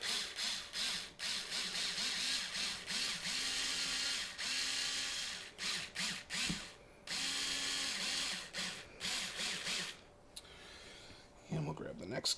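Screws are driven in with a ratcheting driver during a guitar pickup swap, close clicking ratchet bursts in a stop-start rhythm with short pauses, and a voice speaks between turns.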